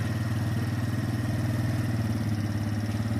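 A 130cc three-wheeled motorcycle engine runs close by with a steady, pulsing mechanical drone and light clatter, holding an even, loud level throughout.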